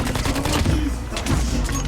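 Rapid automatic gunfire from a Call of Duty Mobile match, a dense continuous burst of shots rattling through the whole stretch, loud and close, with faint game noise beneath.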